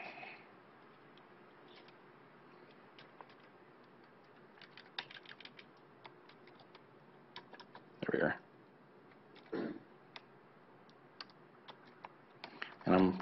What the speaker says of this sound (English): I'm typing on a keyboard that is not my own